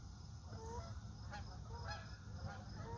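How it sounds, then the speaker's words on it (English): Geese honking as they fly overhead outdoors: a series of repeated, moderately distant calls over a steady background hiss. "Those are geese flying over us."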